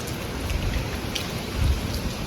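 Steady night rain pours down close by, a dense hiss of drops on surfaces with a low rumble swelling briefly, and no voices.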